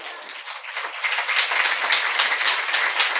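Dense, steady clapping from an annual function audience at a play, building slightly in intensity and continuing throughout with no pauses.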